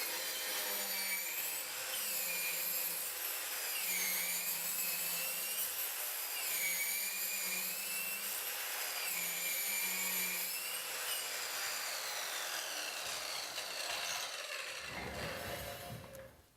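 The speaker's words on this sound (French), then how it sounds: "nous scions le tuyau en vitesse réelle" An Exact Tools pipe saw cutting through a pipe, a high whining motor with a wavering pitch and gritty rasping from the blade, continuous and close, dropping away as the saw winds down at the end.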